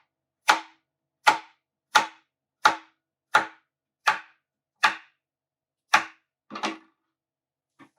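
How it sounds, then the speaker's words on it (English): Knife chopping zucchini, yellow squash and eggplant on a cutting board, nine crisp evenly spaced thuds close up, then one softer double chop and a faint tap at the end. "And we then cut up our zucchini, our yellow squash, and our eggplants."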